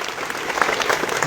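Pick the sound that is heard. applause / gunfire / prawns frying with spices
applause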